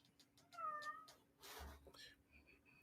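A pet cat gives a couple of short, faint meows indoors, with soft sounds around them and a quiet voice nearby.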